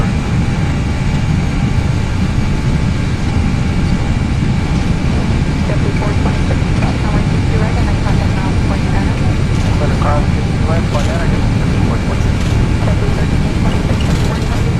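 Airbus airliner engines in a flight simulator game during takeoff, a loud steady roar that fills the whole stretch without letting up, with a voice speaking over it.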